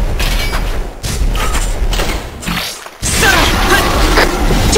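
Long-range bombardment attack in the video game God Eater 2: loud, dense booming and crashing impacts that fill the whole clip, broken by brief dips near one and three seconds before a heavy blast returns and sustains to the end.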